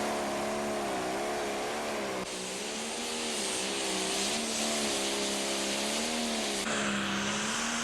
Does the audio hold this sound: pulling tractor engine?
yes